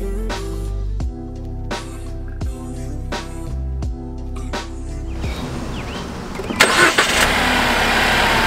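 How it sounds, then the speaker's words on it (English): The 2-liter four-cylinder engine of a 2018 Jeep Wrangler Unlimited Sahara comes to life after several distinct mechanical clicks and clunks, then settles into a close, steady idle with a short rev near the end. "Under the hood, there is a 2-liter four-cylinder engine."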